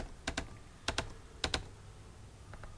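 Soft, quiet keyboard typing: a few paired key taps spaced through the moment, including spacebar presses, with a faint fan hum underneath.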